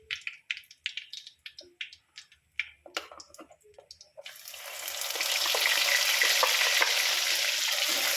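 Whole spices, cinnamon, cloves and two bay leaves, hit hot oil in a pan after a series of sharp clatters and taps, then a loud, continuous sizzle rises and holds steady to the end, with no voices.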